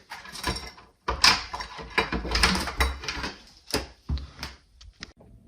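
A door opening into a UK single-garage gym, with a series of close mechanical clunks, latch rattles and scraping movements in irregular bursts separated by short pauses.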